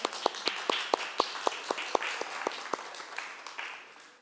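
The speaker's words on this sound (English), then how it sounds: "Somebody feels like applauding there, so why don't we do that?" A small church congregation claps, a few sparse, distinct claps sounding one after another over a quiet, thin patter of applause.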